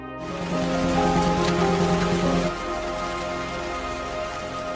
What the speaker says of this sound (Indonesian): Tak lama kemudian hujan pun turun.